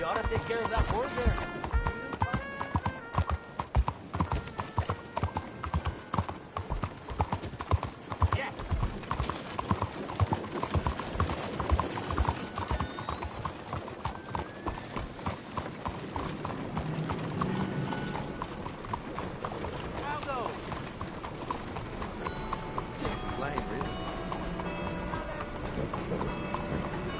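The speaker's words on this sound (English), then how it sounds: "You ought to take care of that horse there." Horse hooves clip-clop in a steady rhythmic gait in the video game Red Dead Redemption 2, continuous and close throughout, with characters talking over the hoofbeats.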